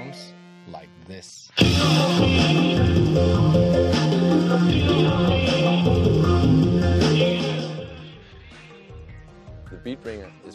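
A Beat Ringer Bluetooth speaker backpack plays music that kicks in suddenly and loudly after a brief pause. It holds steady for several seconds, then fades and thins out toward the end.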